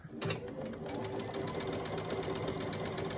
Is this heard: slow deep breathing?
no